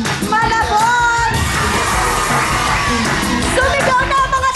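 A large crowd at a Filipino variety show yells and cheers loudly, a dense sustained wall of voices with whoops and shouts rising over the din.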